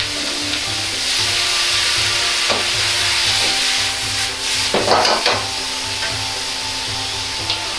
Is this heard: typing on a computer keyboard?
no